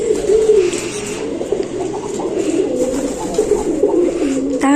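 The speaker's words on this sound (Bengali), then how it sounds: "এই যে পায়রাগুলো, পায়রাগুলো করছে।" Pigeons coo steadily and close by, a low rolling murmur from several birds that carries through the whole stretch with brief softer dips, no talking over it.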